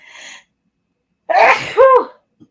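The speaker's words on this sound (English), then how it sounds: "this is making me sneeze." A single close, sharp human sneeze with a short inhaled build-up before it, followed by a faint tail, alone without any talk.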